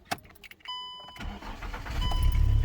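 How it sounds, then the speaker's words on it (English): A car engine is started: a few clicks, a brief high whine of the starter, then the engine catches and settles into a steady rumble that grows louder and is heard up close. "let me go ahead and start up this car."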